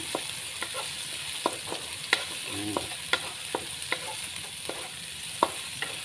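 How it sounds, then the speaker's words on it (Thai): Chili and garlic stir-frying in a wok, a soft steady sizzle broken by regular sharp clacks of a spatula against the pan, fairly quiet with no one speaking. "พริกกระเทียม ผัดให้หอม ให้เหลือง"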